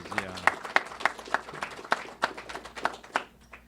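A small group applauds at a public transit event in Tempe, Arizona: about a dozen separate, fairly quiet claps in an uneven rhythm, sparse rather than a full crowd, fading out over a few seconds.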